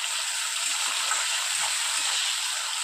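Tomato pieces frying in a pan with onion and salt during home cooking, a steady close hiss of sizzling oil that runs unbroken throughout with no voices.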